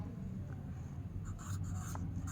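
A pen scratches across paper while a child's practice answers are written out, soft short strokes heard close over a low background hum, no talking.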